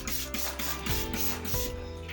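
Fine-grit wet sandpaper rubbing back and forth on a VW T5 headlight lens, rhythmic close scraping strokes in quick succession.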